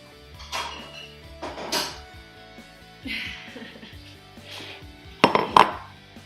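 Ceramic bowls and dishes clinking and knocking as a bowl is taken out for serving ice cream in a home kitchen, a few scattered clatters ending in sharper clinks, close by, with brief talking in between.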